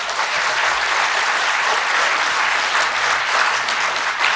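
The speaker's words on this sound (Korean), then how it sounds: "큰 박수 한번 다시 부탁드려도 되겠습니까?" Steady, full applause from the audience at a National Assembly suicide prevention forum, dense even clapping filling the room for several seconds without a break.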